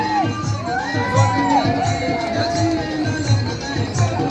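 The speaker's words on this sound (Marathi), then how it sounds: "जल्लोष चालला त्यांचा." A lively crowd cheers and shouts continuously at a palanquin procession at Karla near Lonavala, with whoops and children's voices over a steady low drumbeat in the background.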